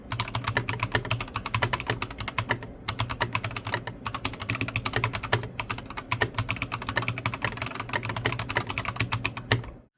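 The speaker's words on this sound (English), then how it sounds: "There's not a whole lot of feedback in combination of pressing these switches on" Steady fast typing on a Magic Refiner MK31 mechanical keyboard with crystal shell keycaps, dense close clacks in a continuous run with brief pauses, loud and alone.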